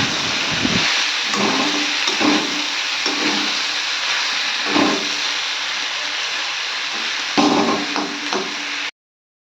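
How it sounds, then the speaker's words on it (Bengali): Spices and potatoes frying in a pan with pointed gourd for a thin curry, a loud continuous sizzle and hiss broken by repeated stirring scrapes, close and steady until it cuts off abruptly. "দেখতে পাচ্ছেন একটু ভালোভাবে ভেজে নিচ্ছি"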